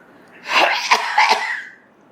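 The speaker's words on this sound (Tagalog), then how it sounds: "Nag-ubo-ubo na." A short burst of two or three harsh coughs in quick succession, close and fairly loud, with no talking.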